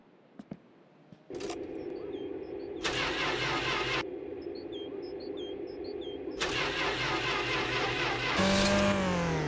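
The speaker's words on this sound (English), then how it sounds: "So let's get the car turned on." The Rivett's engine in My Winter Car cranks over in two long whirring bursts and then catches, settling into a loud, steady idle with a rising rev at the end. No one speaks.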